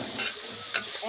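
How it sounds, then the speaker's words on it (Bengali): Spices being stir-fried in a pan for a fish and bean curry, a close steady sizzle broken by a few scraping stirs of a spoon. "মশলা কষিয়ে নিয়েছি"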